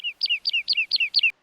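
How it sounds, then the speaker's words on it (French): A small bird chirps six times in a quick, even series of bright, close two-part notes, clear and alone against silence. "j'entends les oiseaux,"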